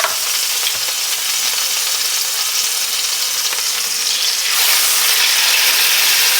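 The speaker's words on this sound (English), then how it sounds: "Time to fry some chops" Pork chops fry in a skillet with a loud, steady crackling sizzle close up, swelling brighter and more intense near the end, with no talking.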